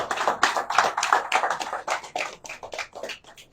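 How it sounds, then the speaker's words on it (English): A small group claps at a joint press conference of Overland Airlines and Sierra Leone's aviation authority as a group photo is taken. The clapping is close and uneven, with irregular hand bursts that thin out toward the end. "A big round of applause"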